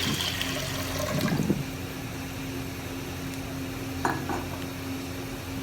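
Water poured into a cooking pot set on a stove for tamarind and plum sharbat, a brief splashing pour followed by quiet kitchen clatter, with no voices.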